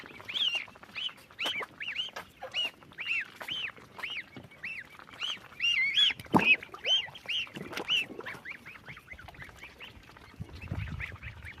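A flock of geese and ducks, including Muscovy ducks, calls repeatedly, quacking and honking in overlapping bursts, some close and some farther off.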